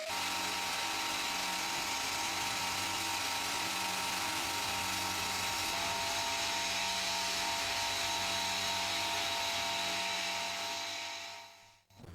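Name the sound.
sandblasting cast iron with white corundum abrasive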